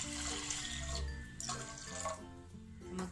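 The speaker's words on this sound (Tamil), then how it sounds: "இது வேகிற அளவுக்கு நமக்கு தண்ணி ஊற்றிக்குவோம்." Water is poured into a pressure cooker holding chana dal and toor dal with turmeric powder, for dalcha. A steady splashing, gurgling stream runs close by, with a few small clinks.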